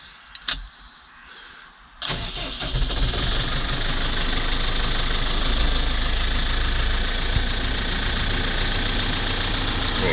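A tractor hitched to a feed mixer wagon loaded with silage cranks briefly, catches and settles into a loud, steady diesel idle close by, running alone without speech.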